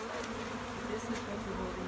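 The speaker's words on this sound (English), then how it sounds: "in the corner you'll have lots of bees there" A dense, steady drone of many honey bees buzzing close by at a honey farm in Devon, continuous and moderately loud with no pauses.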